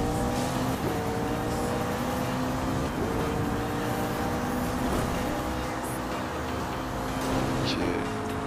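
Racing game Need for Speed Rivals, with a car driven flat out at around 314 km/h: a steady, loud engine drone with shifting harmonic lines runs through the whole stretch, and wind and road noise sit on top.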